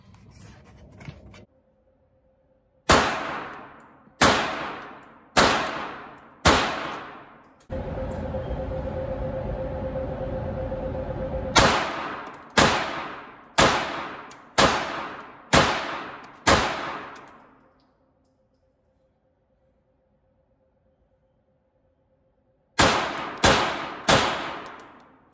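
AREX Delta X GEN2 pistol fired in quick strings of about four to six shots each, loud sharp reports with ringing decay, separated by pauses, one stretch of steady noise in between, no speech.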